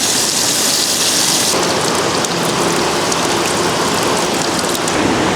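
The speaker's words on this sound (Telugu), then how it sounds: "కానీ వర్షమే బాగా వస్తున్నది." Heavy rain pours steadily and loudly, a dense unbroken hiss of drops striking surfaces nearby, with no talking.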